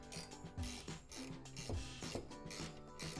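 A ratchet clicks rhythmically while tightening backboard hardware on a Lifetime Action Grip basketball system, close and steady, with a low mechanical rasp under each stroke and no talking.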